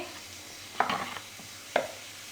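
Flour is mixed by hand with ghee and salt for dough, giving soft rustling and two distinct scraping swishes in a bowl, close and fairly quiet with no one speaking.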